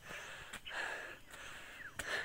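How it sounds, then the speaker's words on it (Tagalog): A person pants heavily while out of breath on a bread delivery trip in Calatagan, giving repeated ragged, breathy gasps in an uneven rhythm, close to the microphone. "Hingal ako."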